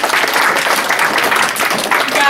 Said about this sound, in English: round of applause for all of our contestants